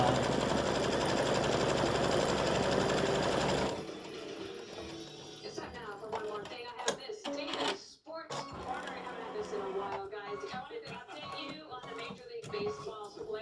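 A sewing machine runs in a steady, close, continuous whir while it stitches down appliqué fabric for flip-flops. It then stops, and a person talks over light handling noises.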